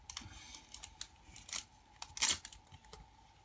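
Pokémon card booster packs from the VMAX Rising set are torn open by hand, with close, quiet crinkles and rips of foil wrapping, sharp tearing bursts, and soft rustling of cards in between.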